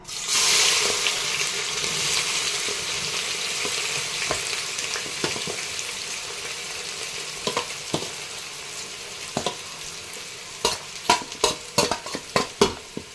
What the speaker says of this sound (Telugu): ఆయిల్ కాగిందండి, ఇప్పుడు ఆనియన్స్ వేసుకుందాం.